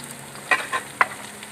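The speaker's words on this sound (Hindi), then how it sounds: "प्याज लहसुन भुन के ब्राउन हो गया, हम ये टमाटर मिर्चा पावांगे" Tomatoes and chillies stirred into browned onion and garlic in a village kitchen pan, a few short, close scraping sizzles spaced unevenly with no voice.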